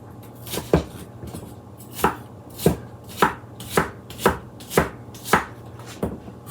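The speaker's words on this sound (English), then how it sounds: "We're gonna get a quarter of an onion chopped" A knife chops a quarter of an onion on a cutting board, about ten crisp, evenly spaced strokes close up, with no one talking.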